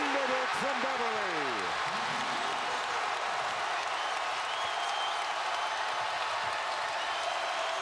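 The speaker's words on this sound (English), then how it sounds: "And the crowd is roaring again here in Raleigh." A basketball arena crowd in Raleigh, at a college game between North Carolina and NC State, roars and applauds in a steady, dense wash that holds throughout, with a commentator's voice rising briefly near the start.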